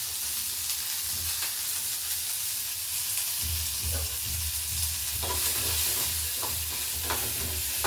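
Onions frying in a pan with spices such as pepper and fenugreek for a curry, a steady close sizzle with occasional stirring scrapes throughout.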